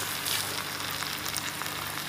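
Chicken coated in ginger-garlic paste fries in a pan for a Goan chicken chilli, giving a steady, moderately quiet sizzle with no voices over it.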